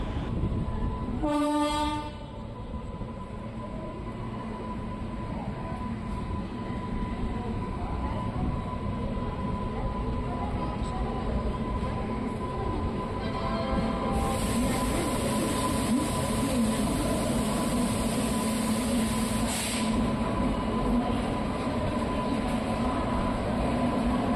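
Passenger train 06539 rolls into platform 1 at Kalaburagi Junction in the rain, a short horn blast at the start giving way to a steady, close rumble of wheels and carriages with a hissing burst midway.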